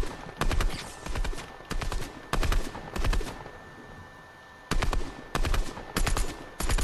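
Bursts of rapid automatic gunfire in the video game Fortnite, loud and close, coming in repeated volleys with brief quiet pauses between them.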